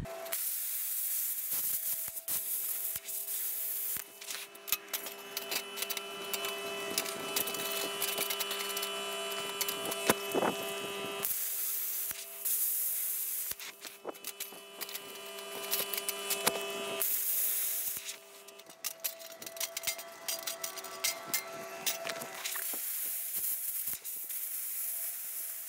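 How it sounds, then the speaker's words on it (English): Bestarc BTC500DP plasma cutter cutting metal freehand, a loud crackling hiss in long bursts broken by brief pauses, with steady tonal whines underneath, close up and without speech. "that's the first cut that I've ever done freehand with a plasma cutter"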